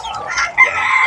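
A young fighting rooster from a small backyard flock crows close by in a short, bright call.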